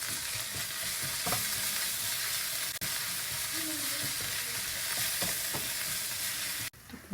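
Onions and chili frying in a pan while flatbread filling is made, giving a steady, close sizzle with stirring scrapes and scattered knocks throughout, no voices.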